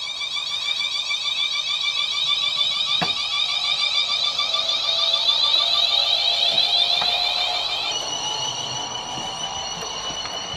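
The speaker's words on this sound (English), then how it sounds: "I will just do a quick lap of this so you can hear obviously the sound going as you would with the real thing" A Bachmann Class 350 model train with a sound decoder runs a lap of a layout. It gives a steady, high electric motor whine and traction hum that holds for about ten seconds, then shifts pitch near the end, loud and close.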